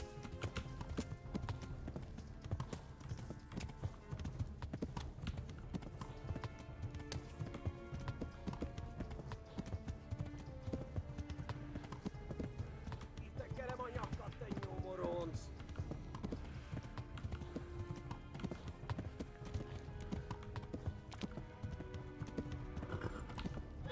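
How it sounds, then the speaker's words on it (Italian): Hooves of a galloping horse clop rapidly and continuously in the medieval game Kingdom Come: Deliverance, with the occasional whinny under game sounds and music. "il cavallo non si può stancare adesso"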